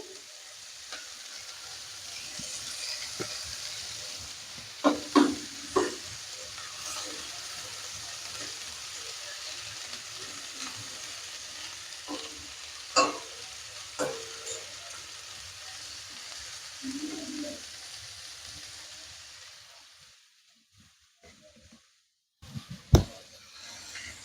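Chopped ginger and green chilli sizzle steadily in a pan, with occasional stirring clinks over the constant frying hiss. The sound cuts off near the end, followed by one last clatter.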